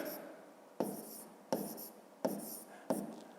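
A pen or pencil writes numbers by hand on paper for a fifth-grade math exercise: four distinct scratchy strokes at regular intervals, each starting sharply and fading, close and fairly quiet, with no talk.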